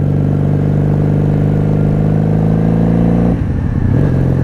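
A 1997 Honda Magna VF750C motorcycle ridden in second gear, its engine holding a loud, steady droning hum close up before a brief dip as the revs shift near the end.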